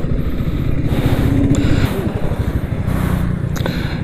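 A KTM Duke 200 BS6 (2021) motorcycle idles in neutral on its stand, a steady close low engine rumble with a fast even throb, continuing without any audible speech.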